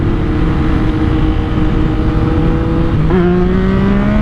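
A 2022 Yamaha MT-09 with an ECU tune roars loudly as it accelerates, a steady deep engine drone that rises in pitch near the end as it revs up through the gears, close and without speech.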